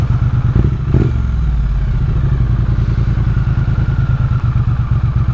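A Triumph Speed Twin 900 motorcycle's parallel-twin engine runs while riding, a close, steady, throbbing pulse with rapid regular beats, a brief rise in revs early on, and clatter mixed in.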